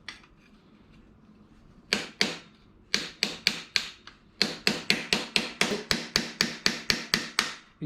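Repeated sharp metallic taps against the spark plug cover of a Suzuki Alto Works F6A twin-cam engine, starting as a few isolated knocks and then settling into a steady, close, loud rhythm of strikes.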